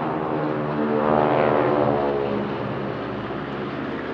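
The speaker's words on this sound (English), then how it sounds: "Et nous observons actuellement le break tactique qui va permettre aux Mustang XL de revenir se poser ici à Melun avec un passage" A Mustang XL propeller aircraft passes over the Melun airshow with a loud, steady engine drone that swells toward the middle and then eases slightly, heard alone.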